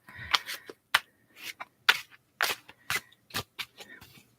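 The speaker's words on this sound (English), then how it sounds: "These cards are not impossible to shuffle, but they are a bit stiff." Stiff playing cards shuffled up close in an ASMR setting, with crisp papery bursts that repeat in an uneven rhythm, fairly quiet and alone.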